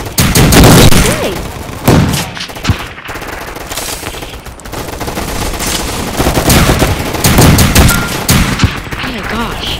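Rapid gunfire from a video game fills the clip with loud bursts of automatic shots and booms, dense at the start and again toward the end, over a constant din.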